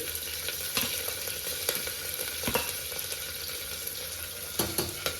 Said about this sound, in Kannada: ಕರಿಬೇವಿನ ಸೊಪ್ಪು ಚಟಪಟ ಅನ್ನುತ್ತೆ ಇವಾಗ